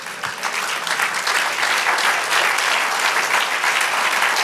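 A church congregation bursts into applause, a full, even roar of clapping that holds steady and close for several seconds with no voices over it.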